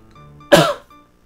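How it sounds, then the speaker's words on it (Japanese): A single sharp sneeze bursts out once, close and loud, against a quiet background of soft game music from Animal Crossing: Happy Home Designer. "ちょっとくしゃみが。"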